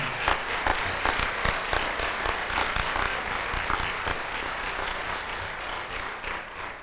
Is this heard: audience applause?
yes